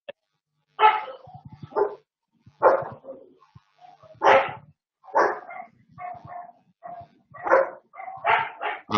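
Several dogs bark in repeated bursts with short yips between them, loud and close, with no talking.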